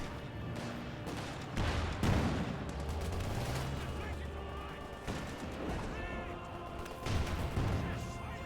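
Bursts of machine-gun suppressing fire and other battle gunfire crackle in the Company of Heroes 2 strategy game, with someone commentator talking throughout.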